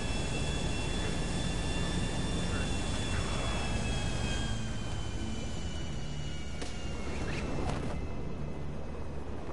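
A fixed-wing airplane engine in a video game drones steadily throughout at low volume, with a faint whine on top and a few brief clicks near the end.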